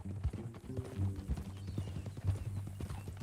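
Horse hooves clip-clop in a steady walking rhythm on a ranch trail in Red Dead Redemption 2, close and clear, with low ambient background and no talk.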